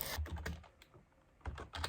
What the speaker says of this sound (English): So I just end up typing my notes